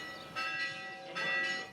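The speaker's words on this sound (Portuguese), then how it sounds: "Os sinos anunciam, hoje é dia de festa." Church bells ringing for a patron saint festival in a small town, two resonant strikes with lingering metallic overtones, heard at moderate distance and fairly faint.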